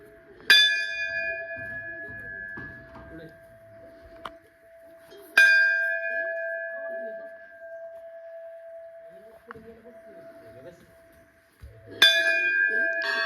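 A temple bell in a village in Guhagar, Konkan, is struck three times with long pauses between, each a loud clear clang that rings on and fades slowly, with faint voices and footsteps in between.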